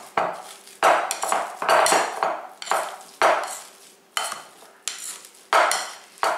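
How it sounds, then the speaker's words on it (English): Cooled butternut squash gets mashed with a holed metal potato masher in a bowl, a run of about eight sharp clanking strikes, each trailing off into a soft squish, close and loud. "what I like to use is this nifty potato masher that has holes"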